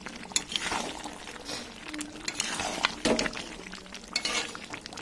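A spoon stirs garam masala into a meat curry in a pot, making scattered metallic clinks and scrapes against the pot with soft, wet mixing sounds between them, close and irregular.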